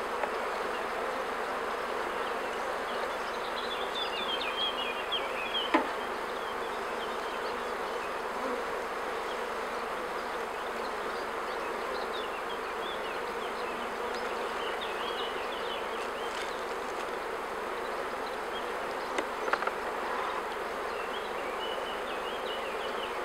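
Honey bees buzz steadily inside an open beehive during a queen replacement, a dense continuous drone with a few brief sharper accents, close and constant throughout.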